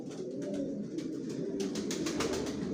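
Young Johnson Maxi racing pigeons coo softly and continuously inside a loft, a faint, low murmur of several birds.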